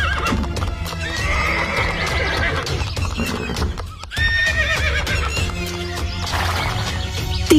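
Horses ridden by three bandits in a comic story neigh and whinny loudly while their hooves clip-clop steadily and close by, with a brief dip midway before the commotion resumes.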